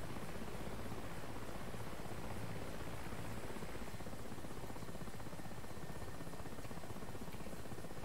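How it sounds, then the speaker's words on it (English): Helicopter rotor and turbine drone in the DCS flight simulator during an oilfield campaign, a steady dense whir filling the whole stretch with no gaps, loud and continuous. "Just watch your heads when getting on and off the chopper."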